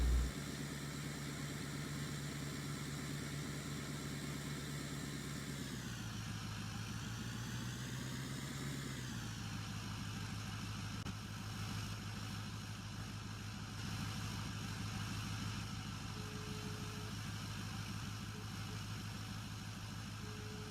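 A truck engine idles in Farming Simulator 15, a steady synthetic drone that dips and rises in pitch briefly before settling back to an even hum for the rest of the stretch.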